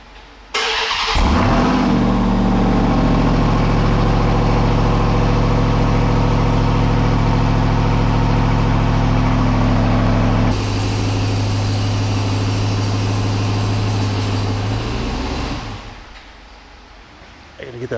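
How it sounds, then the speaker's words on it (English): A Ram TRX Final Edition truck engine starts and settles into a loud, deep, steady exhaust rumble close by for about fifteen seconds, shifting tone partway through before cutting off. "These TRXs sound incredible."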